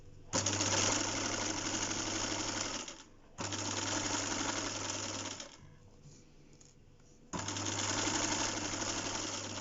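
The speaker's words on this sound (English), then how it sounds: "So that's why I'm putting in this holding stitch." A sewing machine runs a holding stitch while an invisible zip is put in: three loud, sustained bursts of rapid mechanical whirring, with a short pause between the second and third.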